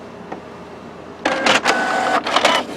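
A Canon inkjet printer whirs and clatters after a PG-243/CL-244 style cartridge refill, quiet at first and then bursts of loud mechanical carriage motion in quick bunches, close by with no talk.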